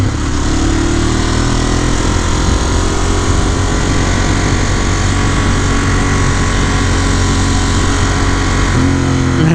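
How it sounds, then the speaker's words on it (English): A Ducati Monster 821 motorcycle engine runs loud and close the whole time, a steady rumbling drone with a rough, crackly edge like pops and burbles as the bike slows down. "do y'all hear this bike, man? Like all the pops and burbles on deceleration."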